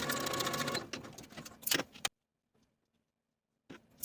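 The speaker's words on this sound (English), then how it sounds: "Then I'll sew each of my darts in place from the outside edge to the point" A sewing machine stitching darts on crop top bodice pieces runs in a fast close whirring burst for about two seconds, then stops into near silence before a short restart at the end.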